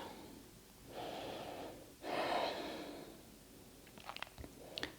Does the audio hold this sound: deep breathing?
yes